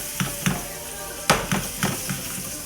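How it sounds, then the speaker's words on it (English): Vegetables sauteing in unsalted butter in a pan for an Alaskan king salmon dish, a steady soft sizzle broken by a few sharp clatters and stirring scrapes, close by. "And we're gonna just saute these like such."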